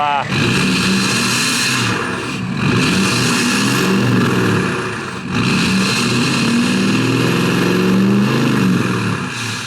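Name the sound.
diesel truck engine revving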